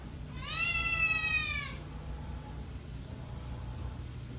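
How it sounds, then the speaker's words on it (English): A cat indoors gives one long, drawn-out meow up close, followed by quiet background hum with faint traffic-like noise. "She meows a lot"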